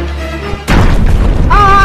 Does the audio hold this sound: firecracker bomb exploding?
yes